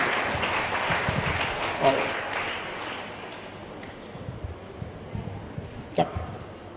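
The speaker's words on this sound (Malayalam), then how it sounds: "ഒന്ന് കൈയടിച്ചേ കേട്ടോ" Audience applause at a church gathering, a steady wash of clapping that fades gradually, with a few coughs and scattered voices in the room.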